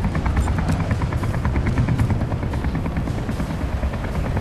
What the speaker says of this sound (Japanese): ヘリの音がうるさくてさ